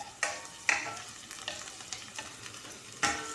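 Onions fry in a pan for a vegetable dish, sizzling steadily with a few scraping stirs of a utensil, close and alone with no voices.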